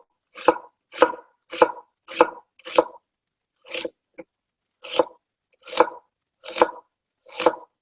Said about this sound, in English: the onion in this dish is raw, so we want to make each piece as thin as possible